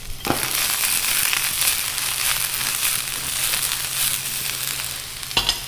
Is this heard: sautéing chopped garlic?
yes